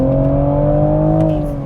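Toyota Supra with a B58 engine revving hard, a loud, steady, close engine drone holding high revs for under two seconds before easing slightly.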